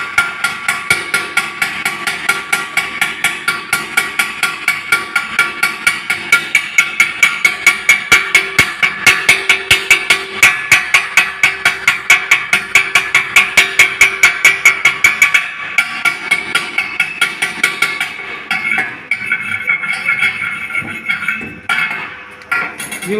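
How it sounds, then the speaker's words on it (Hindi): A chipping hammer and wire brush cleaning slag from an arc weld bead in a welding shop, heard as a long, rapid, loud run of regular metallic strikes and scrubbing, close up, slowing into irregular scrapes toward the end. "इसका भी सेम प्रोसेस साफ करने के लिए चिपिंग हैमर और वायर ब्रश का प्रयोग करेंगे।"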